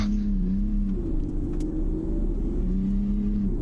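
An Indycar on a dirt rallycross track under light throttle gives off a steady, buzzing engine drone. Its pitch dips at the start and climbs again near the end, loud and close.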